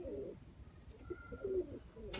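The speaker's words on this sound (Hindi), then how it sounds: "ये खुद कबूतर है जनाब जी" A Sialkoti pigeon cooing in short, soft low calls with brief pauses, near but faint over light background noise.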